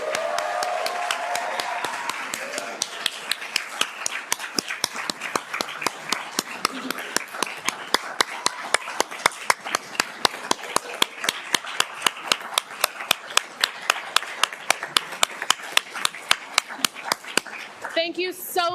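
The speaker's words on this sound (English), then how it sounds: "One last round of applause for our graduates." Audience at a Colorado law school BIPOC cord ceremony applauds graduates with sustained clapping, individual claps standing out sharply, over a voice speaking at the start and fading near the end.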